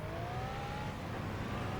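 Sports car engine from the video game Stuntman, a steady whirring drone with a slowly rising pitch, heard alone at moderate loudness.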